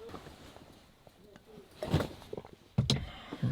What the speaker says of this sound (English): I'm opening the door